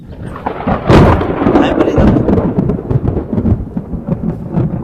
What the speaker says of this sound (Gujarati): આ ગળેરાટી થઈ હજી સંભળાય છે